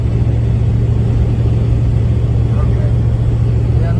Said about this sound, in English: We're in 5th gear doing a lowly 1800 RPMs, and it is just as happy as can be.